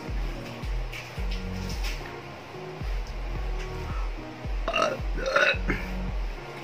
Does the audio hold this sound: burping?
yes